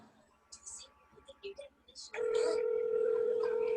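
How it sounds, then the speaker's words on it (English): Tones from a telephone keypad being dialed, a string of short beeps, are followed by a loud steady dial or ringback tone that continues to the end, with faint voices in the background. "I'm calling from the other phone now."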